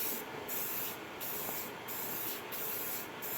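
Spray paint hisses steadily onto a car part for a budget rally build, a continuous aerosol spray broken into about five short bursts with brief pauses, close and fairly loud with no talking.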